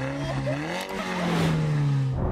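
An Audi R8 pulls away under power, its engine note rising steadily and loud and close throughout, with no talk over it.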